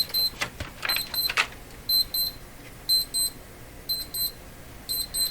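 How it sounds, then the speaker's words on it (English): An electronic clock alarm near a Canadian PYE Model 39HC radio, sounding as repeated high, thin beep bursts in a steady on-off pattern with a few louder clunks at the start, no talking. "that's a clock alarm I cannot control."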